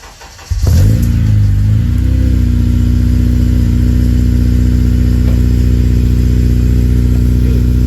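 An 8th-generation Honda Civic Si engine with a Skunk2 header and Full Race exhaust cranks briefly, then catches and settles into a loud, steady idle that rumbles on without a break, close to the listener.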